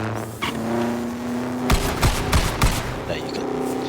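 Shotguns fire from a transforming mech in a video game, several sharp loud blasts in quick succession over a steady engine-like drone from the game.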